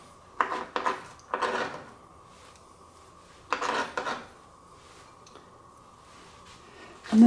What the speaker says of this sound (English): I'll just put the celery in.